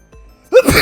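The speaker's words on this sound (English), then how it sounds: "Oh god, I think I'm gonna sneeze" A character sneezes in the video game AI: The Somnium Files: a faint breathy intake, then one sharp, loud burst that trails off quickly.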